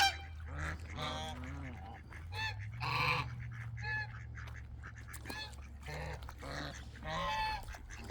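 Mallard ducks on a farm quack and call repeatedly at close range in a busy, overlapping chorus, with a steady low hum running underneath throughout.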